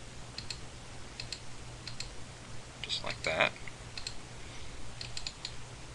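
A computer mouse clicks during image editing with a lasso selection tool, giving light scattered single and double clicks, with one brief burst of speech in the middle.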